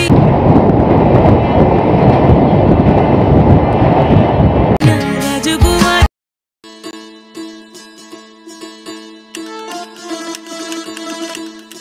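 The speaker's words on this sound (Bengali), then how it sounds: "আসানসোল এক্সপ্রেস ছেড়ে দিল" Asansol Express pulling out of a station: a loud, steady rumble of the moving train for about six seconds, then a sudden cut to quieter, tonal station sounds.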